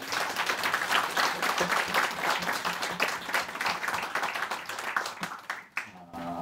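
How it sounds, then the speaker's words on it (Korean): Church congregation breaking into warm, sustained applause for God at a church-planting thanksgiving service, dense clapping filling the room steadily before tapering off at the end. "우리 하나님께 뜨거운 박수로 영광 올려드리면 좋겠습니다"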